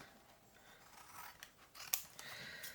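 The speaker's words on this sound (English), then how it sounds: "I'm gonna trim this piece first." Scissors trimming a piece of paper for a journal: quiet, close snips and rustling cuts in a short irregular run, with one sharper snip near the end.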